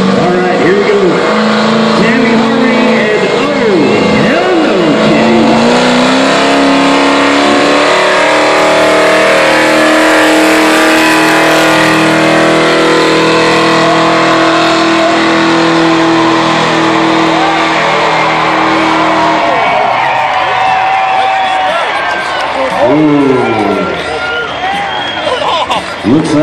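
The pulling truck Oh Hell No Kitty makes a truck-pull run at the Tri County Fair, its engine roaring at full throttle for about twenty seconds before it winds down. Crowd noise and an announcer's voice sit beneath the engine.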